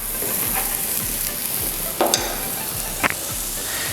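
An aderezo fries over a low flame in three pans side by side, a constant soft sizzle broken by a few scraping stirs of ladles against the metal.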